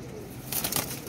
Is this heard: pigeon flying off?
yes